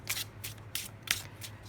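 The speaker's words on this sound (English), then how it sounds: "I'm looking at all of these together as I shuffle some more cards." Tarot cards are shuffled by hand in quick bursts of crisp riffling, about five short flurries at an even pace, close and fairly quiet with no talking.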